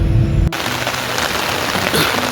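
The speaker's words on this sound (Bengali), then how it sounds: "মুষলধারে বৃষ্টি নামলো মূর্তি নদীর ধারে" After a short low rumble cuts off, a heavy monsoon downpour hisses steadily and loudly beside the Murti River in North Bengal, rain drumming on surfaces close by.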